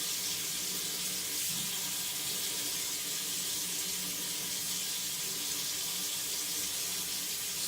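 A Chinese cleaver rinsed under a running kitchen tap, with a steady, close hiss of flowing water splashing into a sink that continues without a break.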